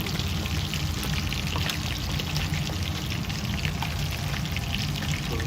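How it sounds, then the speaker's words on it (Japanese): Freshly caught scorpionfish (kasago) pieces deep-frying as karaage in hot oil, a steady dense sizzle and crackle of bubbling oil that stays loud and even throughout, with no talk over it. "今日釣ったばかりのカサゴを今唐揚げ"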